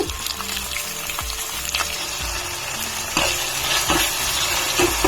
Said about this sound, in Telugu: బాగా టమాటాలు బాగా ఉడకాలండి నూనెలోనే ఉడికించుకుందాము